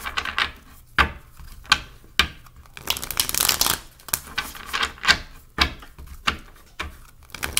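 Tarot cards being shuffled during a reading: a series of close, crisp riffling and slapping card sounds, irregular bursts with a longer flurry in the middle, no talking.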